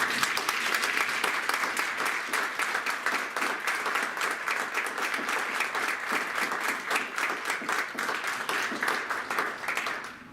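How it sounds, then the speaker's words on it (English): Audience applause at an education symposium, dense and sustained clapping from a crowd for the invited guests, even and continuous for about ten seconds. "a round of applause for our guests"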